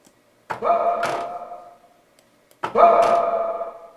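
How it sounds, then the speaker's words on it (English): Two punchy vocal hits, each blooming into a reverb tail that cuts off abruptly as the gate closes, with a short silence between them. "Now I'm gonna add the reverb and add the gate so you can hear it."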